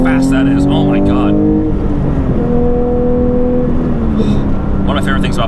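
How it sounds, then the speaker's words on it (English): A 2022 Porsche GT3 Touring engine revs strongly with smooth harmonic tone, rising in pitch, dropping at an upshift, then climbing again, loud and close throughout, with a person speaking briefly over it. "One of my favorite things about Porsches is just when you upshift, it maintains this amazing sound"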